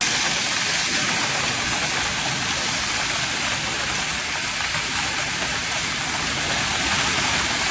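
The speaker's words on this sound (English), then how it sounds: "That's all hail. You can hear it coming down." Hail pounds down during a Nebraska storm in a loud, continuous roar of dense pattering impacts, steady and unbroken for the whole stretch.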